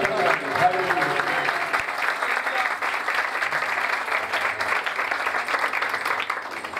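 A church congregation breaks into loud applause at a first anniversary service, sustained and dense clapping that carries on steadily with a few voices underneath.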